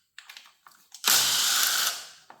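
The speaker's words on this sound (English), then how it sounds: "So I'm going to start off by removing this bolt here" Ratchet work on a clutch cover bolt of a 2007–2008 Honda CBR 600 motorcycle: a few short clicks, then a sustained rapid ratcheting burst of about a second, close and alone.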